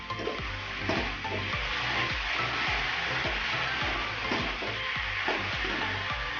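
Ginger paste sizzling and frying in a pan of oil for a Bengali egg curry, a steady close crackle with occasional scraping stir strokes, no talking.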